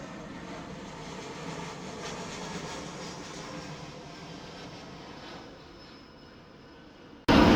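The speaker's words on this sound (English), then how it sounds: "So much aircraft coming in today." A steady, fairly distant engine roar from an aircraft passing overhead outdoors. It fades slowly over several seconds, then a sudden loud burst of noise cuts in at the end.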